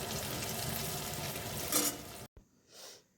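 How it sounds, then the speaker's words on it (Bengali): Garlic paste stirred and fried in a pan of hot oil for a Bengali dried-fish curry, a steady close sizzle with scraping stirs and a brief louder hiss before it cuts off and fades. "এবার রসুন বাটাটা দিয়ে দেবো, ওটা একটু নাড়বো একটু ভালো করে।"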